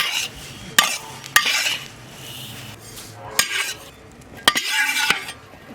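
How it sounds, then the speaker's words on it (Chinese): Walnut kernels are stir-fried in a wok with a soft, continuous scraping and rustle, broken by several sharp metallic clinks of the spatula against the pan. "再炒一点核桃仁"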